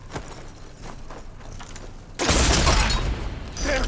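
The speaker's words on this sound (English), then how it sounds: "I love this cannon!" A large cannon fires in the video game Horizon Forbidden West Burning Shores, a sudden loud broadband boom partway through that holds as a sustained roar and surges again near the end, over quieter mechanical clatter.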